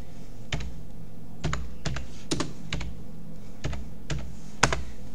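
Typing on a computer keyboard, a run of separate key clicks in short bursts with small gaps, fairly close and moderately quiet, no talk.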